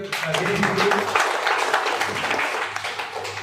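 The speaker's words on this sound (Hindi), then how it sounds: "एक बार जोरदार तालियां" Clapping from an audience at a financial-planning seminar, a broad burst of applause that stays fairly steady throughout, with a voice briefly audible near the start.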